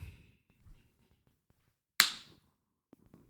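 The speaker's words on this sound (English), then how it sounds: "Can I get a clap?" One sharp hand clap rings out in a quiet room, a single crisp smack with a short decay, and faint rustles come before and after it.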